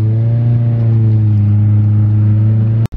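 A car's engine revs in a sustained, loud, close drone during a cruise, holding steady before cutting off abruptly with a short thump near the end.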